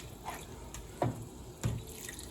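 Water is poured into a pot of rice in a home kitchen, giving a few short splashing gushes over a quiet background, with no talking.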